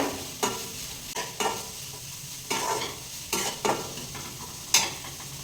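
Crushed ginger and garlic frying in a pan, stirred with a utensil in repeated scraping strokes over a low continuous sizzle, close and moderately quiet, no talk.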